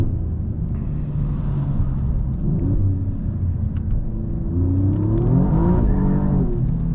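An Alfa Romeo Giulia Quadrifoglio revs and downshifts on the road, its engine rising and falling through several loud, close blips over a steady low rumble, with no voices.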